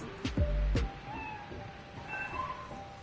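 Spider-Cat, the cat companion in the video game Spider-Man: Miles Morales, gives two short, loud meows close together near the start, followed by quieter game ambience.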